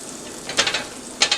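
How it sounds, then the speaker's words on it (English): Butter sizzling on a hot griddle grill while a grilled Reuben pastrami sandwich is being made, a steady soft hiss with a few sharper crackling bursts, close and fairly quiet, no voices. "I'm going to go ahead and put some butter on this grill."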